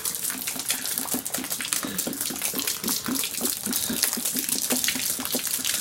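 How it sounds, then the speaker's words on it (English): Water poured out of a bleach bottle into a kitchen sink, a continuous splashing gush with rhythmic glugging pulses as the bottle empties, close and fairly loud. "So what I'm going to do is I'm going to dump the water out."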